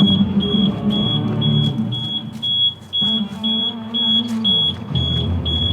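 A Tesla Model 3 alarm sounds as a steady, piercing electronic beeping tone repeating at a regular rhythm, loud and close, over low rumbling and some handling noise around the car; no one speaks.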